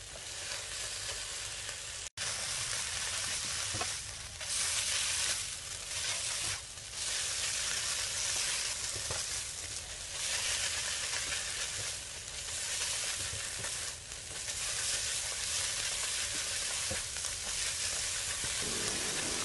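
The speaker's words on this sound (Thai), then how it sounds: "จากนั้นก็ผัดต่อค่ะผัดให้ส่วนผสมเข้ากันค่ะ" Sesbania flowers and egg stir-fry in a pan with sugar, a continuous loud sizzle broken by rhythmic scraping strokes of a spatula and one sharp clack early on.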